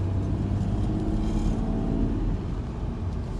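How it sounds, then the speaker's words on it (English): A lifted 2005 Mitsubishi Delica Spacegear Active Field Edition with a Bigfoot kit drives along, its engine and road noise a steady, close low rumble that eases slightly near the end. "Very smooth driving."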